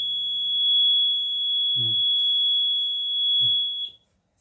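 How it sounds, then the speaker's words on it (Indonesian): A steady high-pitched electronic tone from the buzzer of a PureSense device sounds continuously for about four seconds, with a couple of brief thumps beneath it before it stops. "Buzzernya bakalan bunyi dan di sini statusnya itu bakalan keruh berat"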